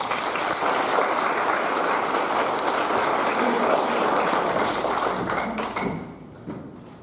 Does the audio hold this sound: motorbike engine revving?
no